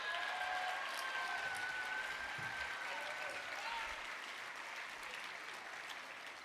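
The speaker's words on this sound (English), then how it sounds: "Let's give a hand clap for Disney" Audience applause at the 2025 HRC Los Angeles Dinner, a dense, steady wash of clapping from a large room that fades slowly across the stretch, with faint voices beneath.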